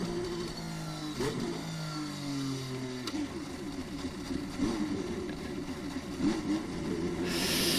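A Formula 1 car at winter testing pulls away and shifts gear, the engine note rising and dropping in steps, moderately loud and slightly distant against a busy background.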